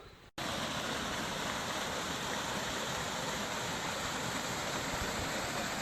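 Stream and waterfall in a valley near Dongducheon, a dense, constant roar of rushing water that starts abruptly after a brief cut and holds steady and loud throughout, with no voices.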